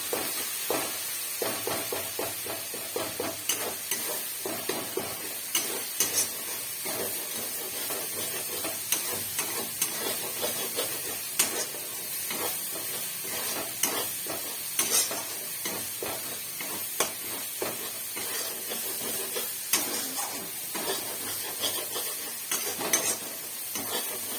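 Spice paste for kochur loti with prawns stirred and frying in a pan, with a steady close sizzle and frequent rhythmic scraping strokes of the spoon throughout, and no talking.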